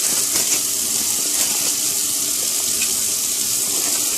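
Hot water runs from a kitchen tap into a sink in a steady, loud, close gush that holds evenly throughout, with no talking.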